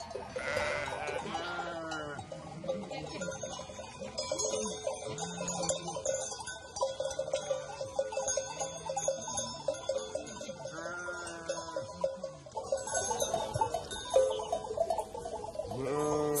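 A flock of sheep belonging to several Turkmen families in Turkish mountain pastures at 1700 m bleats repeatedly, many overlapping calls near and far, with faint ticking or bell-like sounds in the background.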